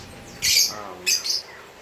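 Two short, harsh lovebird squawks, one after the other, close by with a faint background hiss between them.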